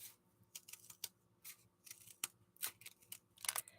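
Scissors snipping off little ends, a series of quick, crisp cuts in irregular rhythm, close but quiet, with no talking over them.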